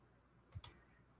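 Two quick, faint computer mouse clicks in close succession, made while deleting cells in an Excel spreadsheet, set against quiet background hiss.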